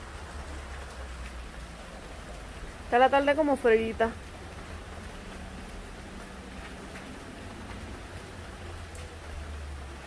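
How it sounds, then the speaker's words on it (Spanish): Soft, steady rain patters throughout in Puerto Rico, with a brief spoken phrase partway through. "Aquí el clima es loco, mira, ya está lloviendo"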